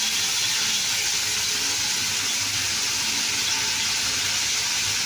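Curry frying in a pan while being stirred, giving a loud, steady, close hiss and sizzle that holds evenly throughout with no talking.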